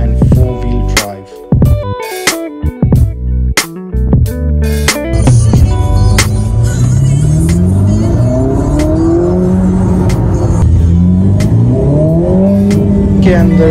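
A Ferrari SF90, a 4-liter twin-turbo V8 plug-in hybrid with three electric motors and all-wheel drive, thuds and clicks at first, then its engine revs up in loud, repeated rising and falling surges.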